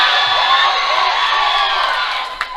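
Loud crowd cheering and whooping at a powerlifting championship, a dense sustained roar of voices that fades slightly toward the end, with a brief sharp shout near the close.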